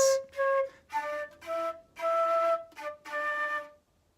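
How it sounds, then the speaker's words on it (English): A solo flute plays a short melody of about eight clear, sustained notes, breathy and close, with brief pauses between phrases. "The flute player could be playing one line that sounds like this."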